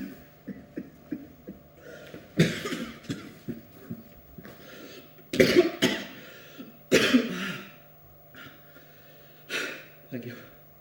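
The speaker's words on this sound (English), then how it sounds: "Now he was coughing" A man coughs in several harsh bursts after a strike to the body arrests his breathing during a Kyushu first aid demonstration, the coughs loud and close amid gasps, with people talking around them.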